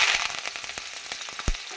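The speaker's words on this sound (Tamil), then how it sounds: "வெங்காயம் பூண்டு கருவேப்பிலை ஆட் பண்ணிக்கலாம்" Onion, garlic and curry leaves frying in hot oil with mustard seeds for a okra kara kuzhambu, a steady close sizzle with scattered pops and crackles and one louder spatter near the end, no talking.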